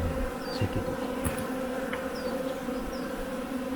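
A dense swarm of honeybees hums steadily at an open beehive during a pre-winter inspection, with a few louder individual bees passing close and faint handling clicks underneath.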